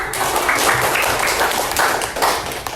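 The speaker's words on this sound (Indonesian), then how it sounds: "Tepuk tangan dulu." A school class claps in a rhythmic, patterned burst of close, dense hand claps, loud and continuous throughout.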